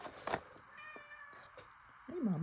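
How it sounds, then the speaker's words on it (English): A pet cat meows at a door, apparently wanting to be let out, with a short call near the start, faint repeated mews, and a louder drawn-out meow at the end. The sounds are close and come at irregular moments with no talk. "that's my little kitty, wanting out I think"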